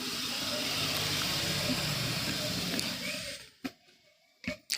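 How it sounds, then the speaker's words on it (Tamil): Two glasses of water pour into a pan in a home kitchen, a steady gushing splash lasting about three and a half seconds before it stops, followed by a few sharp clinks and knocks of the vessel. "அடுத்து ஒரு 2 கிளாஸ் தண்ணி ஒரு ஃபேனில் வச்சு"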